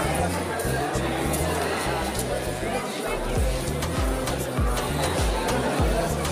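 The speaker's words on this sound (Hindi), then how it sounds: "देखिए कितना ज़्यादा भीड़ है" A large crowd chatters continuously inside the Red Fort in Delhi, a steady babble of many voices with thumping low-end bumps from movement and handling, loud and close throughout.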